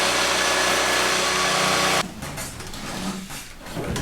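A power saw cuts through the sheet-metal body of a 1967 Volkswagen Fastback, a loud steady whine for two seconds that then breaks into choppy, rattling cutting noise as the blade works along the panel.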